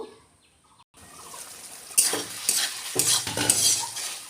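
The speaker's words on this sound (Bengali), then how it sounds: "এবার আলুটাও মশলার সঙ্গে কষিয়ে নিই" Potatoes being sautéed with spices in a pan: a quiet start, then a sudden rise into sizzling and spatula scraping with several uneven stirring bursts, close by and moderately loud.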